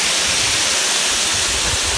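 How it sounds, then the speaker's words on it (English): A waterfall at Grizzly Lake in the Trinity Alps roars as a dense, steady rush of falling water, loud and continuous, with no voices over it. "Here's the waterfall."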